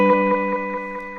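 Sustained instrument tones pass through the delay of a Disaster Transport SR pedal, with soft repeating echoes that trail off and fade over about a second, clear and without voices.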